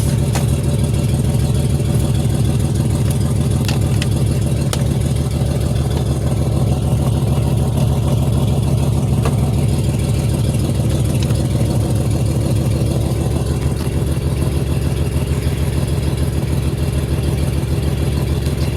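A 2007 Pontiac Grand Prix engine idles steadily up close, a loud, even low rumble with a fast regular pulse that holds for the whole stretch without talk.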